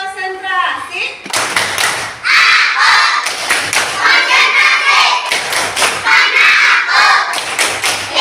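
Schoolchildren in an Indonesian classroom perform a rhythmic clapping routine, with loud bursts of claps and thumps in a patterned beat as their voices chant along.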